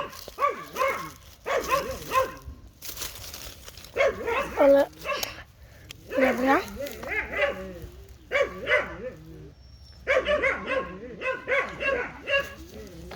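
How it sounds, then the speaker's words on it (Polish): Several dogs bark loudly and repeatedly near a garden where branches are being cut, sharp barks and yips in irregular bursts, with someone speaking between them. "bardzo mocno szczekają psy"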